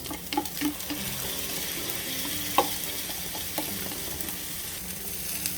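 Instant ramen, egg and soy meat stir-fry in an oiled pan, with a soft steady sizzle and scattered scrapes and taps of a utensil close by, no voices.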